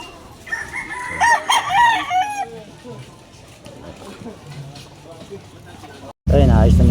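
Rooster crowing in a backyard setting, a loud harmonic cock-a-doodle-doo near the start followed by softer clucking and background voices, then a second sharp crow bursting in close at the end.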